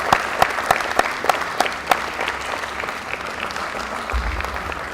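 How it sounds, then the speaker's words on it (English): Audience at a grade 8 graduation ceremony clapping, a round of applause in a hall with a few sharp individual claps standing out early before the clapping thins and fades toward the end. "Dear graduates, please stand up. Let's clap. Round of applause."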